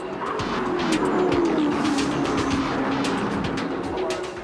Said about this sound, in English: An international stock car race enters its final laps.